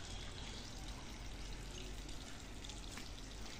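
Water pours steadily from a container onto a tulsi plant outdoors, a continuous close splashing gush with no talk.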